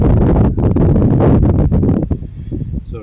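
Outdoor wind buffets the microphone during an oil change on a 2013 Honda Accord Sport, producing loud, low rumbling gusts that surge and fade unevenly throughout.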